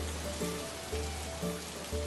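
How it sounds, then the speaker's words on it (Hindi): Sudden torrential rain pours over Patna and its surrounding villages as a soft, continuous hiss of heavy downpour, with dull low thumps pulsing beneath it. "अचानक भयानक मूसलाधार बारिश शुरू हो गई"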